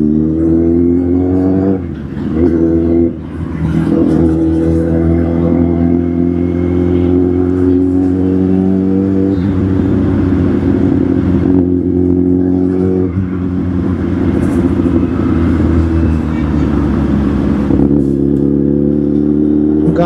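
Car engine droning steadily while driving, heard from inside the cabin as a loud continuous hum with shifting pitch as the revs rise and ease off, alone without talk.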